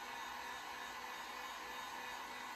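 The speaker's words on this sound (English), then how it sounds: "I am gonna hit it with a heat gun." Heat gun blowing steadily over freshly painted stenciled surface, a continuous even whooshing roar with no breaks, close and uniform.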